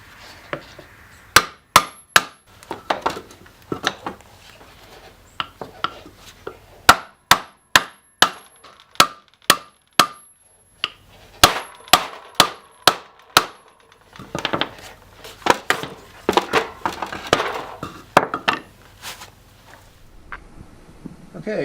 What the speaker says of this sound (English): We're going to start whacking on this to see if we can get those caps off.